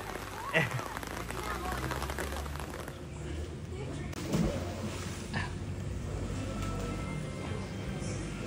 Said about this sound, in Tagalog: And it's raining in Manila